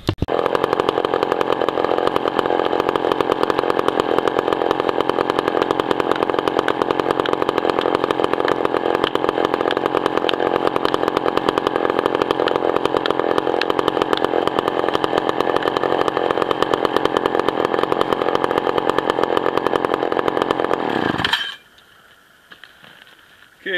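A McCulloch 797 chainsaw with a freshly square-filed chain runs at a loud, steady, close roar for about twenty seconds, then cuts out abruptly, leaving faint background hiss.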